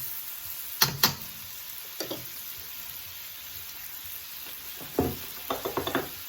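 Garlic, onions and scallions sizzle in a pan for a Jerk shrimp Rasta pasta, a soft steady hiss broken by a few sharp clicks and stirring scrapes, with no talk.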